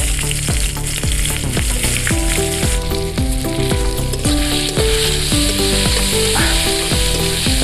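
Chopped onions frying loudly in a pan, a dense continuous sizzle with regular stirring strokes and a steady tonal backdrop, close and with no talking.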